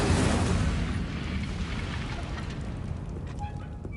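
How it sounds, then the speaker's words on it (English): Fire spells are cast in the Hogwarts Legacy video game, and a dense, roaring whoosh of flame fills the opening, then slowly fades to a lower rumbling crackle. "Setting things ablaze is certainly cathartic, isn't it?"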